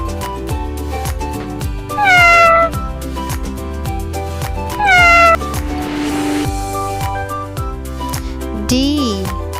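A cat meows clearly twice, then gives a shorter third meow, all over a bouncy children's tune.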